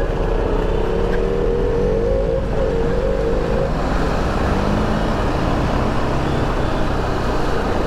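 A BMW Z4 revs and passes on a busy city street in Mumbai at night, a loud engine note rising then blending into dense traffic roar and rumble from other vehicles nearby.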